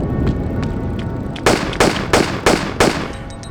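Five sharp gunshots ring out in quick, evenly spaced succession as rats are shot in a Tomb Raider custom level set in the streets of Rome, loud and close over a low ambient game backdrop.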